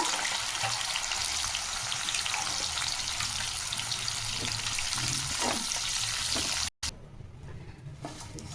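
Bitter gourd chips frying in hot oil, a loud continuous sizzle and crackle that cuts out briefly before resuming more softly.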